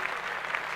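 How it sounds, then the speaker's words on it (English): Brief applause in a podcast studio, a steady wash of clapping from a small group for a child's eighth birthday, held at an even level throughout with no distinct talk on top. "Clap that up."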